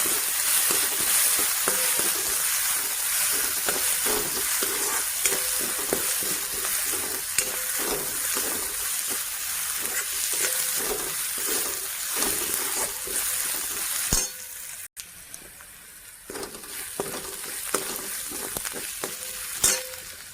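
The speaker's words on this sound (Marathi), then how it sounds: "आता हे वाटलेलं वाटण टाकून घेऊ हिरवी मिरची कोथिंबीर अद्रक लसण ह्याचं पण तेलामध्ये छान परतून घेतलेला" Green chili, coriander, ginger and garlic paste fry in hot oil for a Marathi potato curry, a steady close sizzle broken by repeated stirring scrapes, with a brief dropout near the end before the frying resumes.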